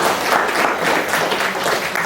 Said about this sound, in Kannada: ನಾವೊಂದು ದೊಡ್ಡ ಚಪ್ಪಾಳೆಯೊಂದಿಗೆ ಅವರನ್ನು ಗೌರವಿಸೋಣ